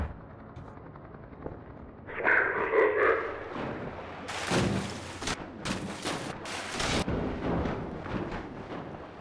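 Rapid bursts of video game gunfire crack out in clustered volleys over a low background, loud and close, with a brief rumbling stretch before the shots.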